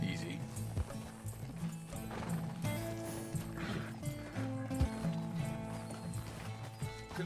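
Horse hooves clip-clop at a steady pace in Red Dead Redemption beneath a busy mix of music and ambient sound, moderately loud throughout.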